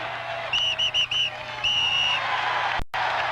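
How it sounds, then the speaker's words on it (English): A fan's shrill whistle at a Veterans Stadium baseball game in Philadelphia, blown in several short blasts followed by one long blast, loud and near over steady crowd murmur. "Get that whistle out of here, would you, man?"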